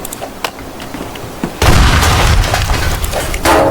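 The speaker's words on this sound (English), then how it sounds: "I got this pipe bomb that looks like a banana." Pipe bomb shaped like a banana exploding in Teardown, a demolition game: a loud burst at about a second and a half leaves a sustained rumble of crumbling debris, with a second surge near the end.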